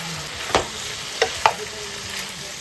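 Chopped onions and chili flakes fry in a hot pan with a constant sizzle, broken by three distinct scraping stirs close by.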